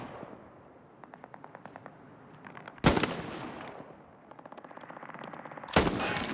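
World War II combat in the video game Hell Let Loose on Xbox Series X: rapid machine-gun bursts rattle in rhythmic runs, broken by two loud, sharp blasts.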